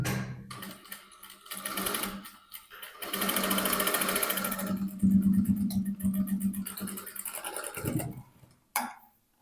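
A sewing machine stitches seams on a maxi dress in a home tailoring setting, running in several close, steady bursts with short pauses between them, then stopping with a final brief burst near the end.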